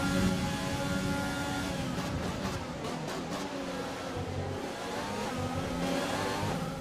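A Formula 1 car with a Renault engine racing at Monza, its high engine note rising and sustained, loud and close with a continuous revving roar and no talk over it.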